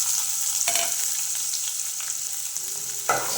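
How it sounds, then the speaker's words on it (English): Dry red chilies, green chilies and cumin seeds frying in a pan for a drumstick leaves dish: a continuous close sizzle with occasional scraping stirs. "So all this mix it and fry them till it gets brownish"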